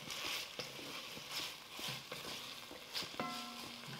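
Sliced medium onion softening in a pan for spiced carrot and fennel soup, giving a steady low sizzle with faint scraping stirs and light knocks throughout.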